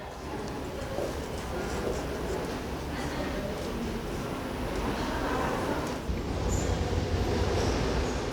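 Crowded Seoul subway Line 2 platform early in the day, with a steady rumble of a train running throughout and faint wheel noise rising near the end, under a busy murmur of people.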